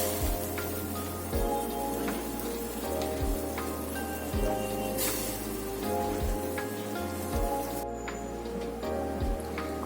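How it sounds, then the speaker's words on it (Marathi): Curry gravy with potatoes and dried bombil fish boils in a pot, a steady close bubbling and popping crackle with a low hum beneath it. "आता चांगली रश्श्याला उकळी आली."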